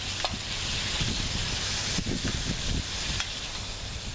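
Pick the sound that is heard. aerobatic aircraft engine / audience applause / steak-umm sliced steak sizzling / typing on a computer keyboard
steak-umm sliced steak sizzling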